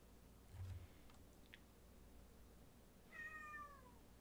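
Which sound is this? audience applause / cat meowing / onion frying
cat meowing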